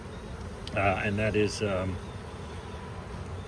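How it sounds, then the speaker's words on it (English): Honeybees drone low and steady at an open hive, a continuous buzz that sits under a short burst of someone speaking nearby. "seems the bees are a lot more active"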